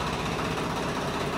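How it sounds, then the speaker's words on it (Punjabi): An old Swaraj 855 tractor sits running, its diesel engine idling with a loud, steady low throb and close vibrating rumble. "ਆਪਾਂ ਥੱਲੇ ਟਰੈਕਟਰ ਕਹਿੰਦੇ ਸਟਾਰਟ ਖੜਾ ਕਹਿੰਦੇ ਸਵਰਾਜ 855"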